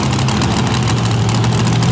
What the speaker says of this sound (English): You can hear Joe Sylvester has fired his engine there in the back